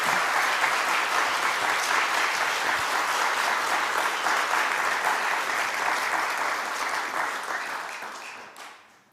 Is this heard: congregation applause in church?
yes